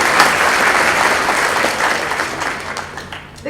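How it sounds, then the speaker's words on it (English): Dense, sustained applause from a school concert audience at a 7th and 8th grade concert, steady broadband clapping that swells early and tapers slightly toward the end, filling the hall without speech. "let's give her a round of applause prior to starting"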